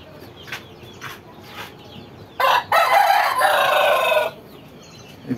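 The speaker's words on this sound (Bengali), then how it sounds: "আমার দেশি মুরগি, আরো কেদারনাথ মুরগি, ওগুলো আমি বাইরে ছেড়ে রাখছি" Free-ranging local desi and Kedarnath chickens outdoors give a few soft clucks, then a rooster lets out one loud, drawn-out crow close by, followed by quiet clucking.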